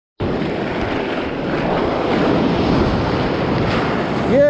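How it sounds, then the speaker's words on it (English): Big ocean waves crash on a beach, a loud, steady roar of surf with wind buffeting the microphone, building toward the end without any speech over it. "Oh, big waves. Big waves."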